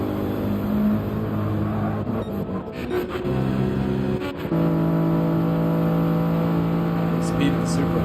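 BMW race car engine droning in Gran Turismo 7, with steady harmonic tones that shift pitch through gear changes, while a voice talks over it throughout.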